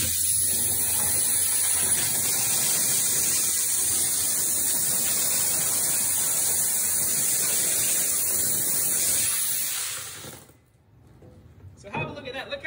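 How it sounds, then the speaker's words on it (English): An aggressive dry ice blasting nozzle cuts into a piece of wood with a loud, constant hissing blast. It runs steadily for about ten seconds, then cuts off abruptly, leaving quiet with a few faint knocks. "this is our most aggressive nozzle on a piece of wood"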